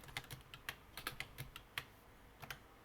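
Computer keyboard typing while writing a PHP multiplication-table program, with a quick series of close, crisp key clicks in an irregular rhythm and an Enter press among them, no voice.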